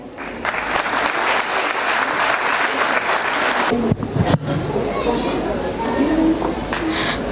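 Steady applause from a crowd of parents at a school annual event, dense and continuous, with a brief break near the middle before the clapping carries on.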